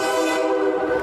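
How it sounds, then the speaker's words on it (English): A train horn blares loud and sustained, a harmonic chord held steadily for the full moment with no voices present. "we heard the train horn blaring and saw the lights"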